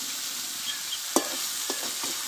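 Cauliflower pieces stirred in a hot frying pan with spinach stems and salt, a steady sizzle broken by a few sharp spatula scrapes and clicks.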